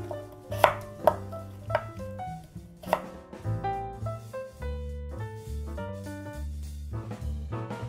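A knife cuts radish into bite-sized cubes for kkakdugi on a board, giving a few sharp, spaced chops early on, then quieter cuts under steady background music.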